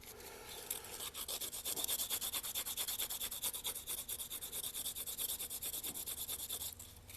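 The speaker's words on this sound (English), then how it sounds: "Just taking this piece of sandpaper and working it around, putting a little back bevel on it really." Sandpaper is worked by hand around a wooden inlay piece to put a back bevel on it, making close, rhythmic scratchy rubbing strokes that run steadily for several seconds and stop near the end.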